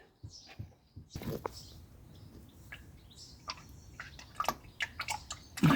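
Hot engine oil drains from the sump of a Mk1 Audi TT with a 1.8T BAM engine, making a faint, uneven trickling and splashing with scattered small drips and clicks.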